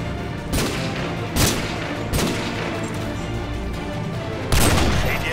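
AGM missile strikes explode in Call of Duty MW2 Special Ops, with several heavy booming impacts at irregular intervals over constant loud battlefield gunfire and rumble.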